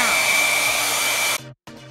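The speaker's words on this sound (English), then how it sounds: "And this is where I take my blow dryer." A loud hair dryer blows steadily on a hat with a whining hum, then switches off briefly and starts up again.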